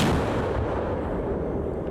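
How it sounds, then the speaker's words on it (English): A German-supplied howitzer fires on Russian positions amid heavy fighting around Soledar, Ukraine. A loud, deep, rumbling blast fills the moment and slowly fades, with no voices. "Here, a German-supplied howitzer is battering Russian positions before shifting location."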